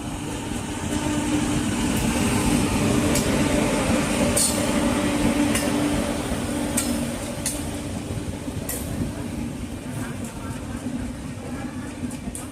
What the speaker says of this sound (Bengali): ফাইনালি কিন্তু ট্রেন চলে এসছে